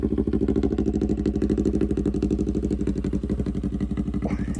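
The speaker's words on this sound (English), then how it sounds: "I'll put in a clip right here of me revving the bike and the idle." A Honda 700 motorcycle with an aftermarket muffler idles close up in a loud, steady, rapid loping pulse, with no talk and no clear revving.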